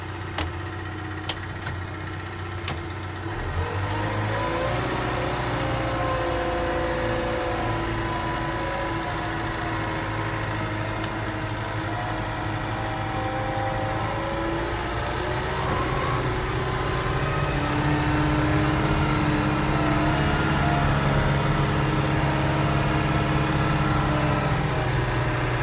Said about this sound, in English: Got our backhoe in work mode.